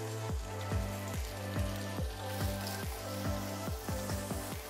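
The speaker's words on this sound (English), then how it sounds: "I'm just gonna brown the tofu a bit" Tofu browning in a hot pan over medium-high heat, a steady sizzle and spatter with a rhythmic repeating tick running underneath, fairly close and continuous.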